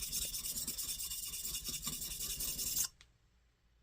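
A Stanley spokeshave blade rubbed on a 300 grit sharpening stone makes fast, rhythmic, gritty back-and-forth scraping close up, which stops abruptly near the end and leaves near silence.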